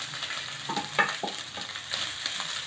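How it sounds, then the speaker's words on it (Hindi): Chicken pieces fry in a little oil with garlic for a hot and sour chicken soup, a soft steady sizzle with faint crackles and light stirring, quiet and close with no talking. "चिकन को हमने अच्छे से फ्राई करना है।"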